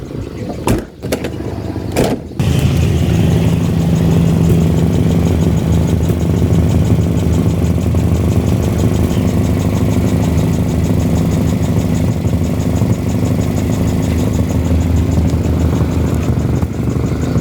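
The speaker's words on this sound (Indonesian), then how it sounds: "bocor knalpotnya, makanya melatup-latup" A Toyota Corolla KE30 engine idles close by with a leaking exhaust, a steady loud rumble with fine popping pulses after a couple of brief dropouts at the start.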